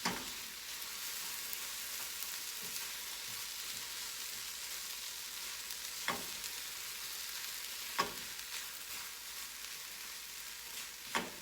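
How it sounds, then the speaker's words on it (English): Eggs scrambling with queso in a frying pan, a steady soft sizzle running throughout with a few faint utensil scrapes and clicks against the pan. "now I'm going to take a little bit of the queso and add it in and cook it in with my eggs"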